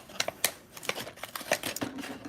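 Scissors cut open the packaging of a Numberblocks Express Train toy set: a run of sharp snips and crinkly plastic rustles, close up and irregular, with quiet pauses between cuts.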